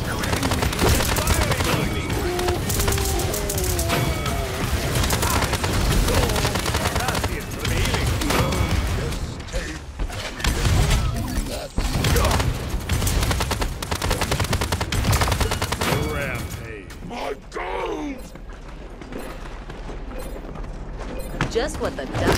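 Gunfire in the shooter game Paladins, dense bursts of rapid shots and explosions, loud and near, layered with game effects and occasional voice lines.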